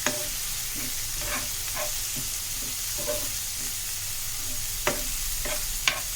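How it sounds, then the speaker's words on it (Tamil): Cabbage being sautéed in a pan for vegetable fried rice: a steady sizzle of frying with scattered scraping stirs of a spatula, a few sharper clacks near the end, no talking. "இதை போட்டு நல்லா சாட்டே பண்ணணும்"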